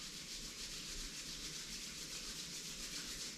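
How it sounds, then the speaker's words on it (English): Palms rubbed briskly together, a steady, close, continuous dry friction hiss with no pauses, heard alone without talk. "Rub your palms,"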